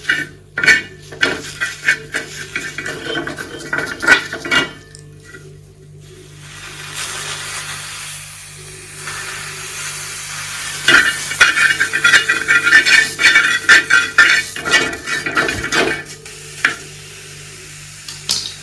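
A heavily blackened iron tava griddle, once used over a wood fire, being scrubbed clean on a gas stove: repeated close rubbing and rasping strokes with sizzling underneath, pausing briefly before bursts of vigorous scouring.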